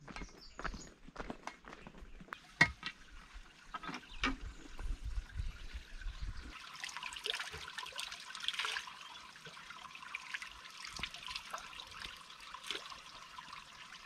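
Crunching footsteps on dry ground come first. Then the soft, steady trickle of a hillside spring takes over, fairly quiet and continuous, with a few more scattered steps and knocks.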